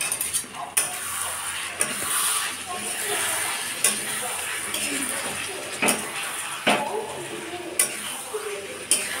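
Chicken curry is stirred and sautéed in a pan, with a continuous frying hiss and repeated metallic scrapes and clinks of a spoon against the pan at irregular intervals, fairly close.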